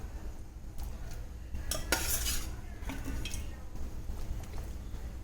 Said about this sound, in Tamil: ஒரு டம்ளர் தண்ணி ஊற்றி நல்லா கலந்து விட்டுக்கோங்க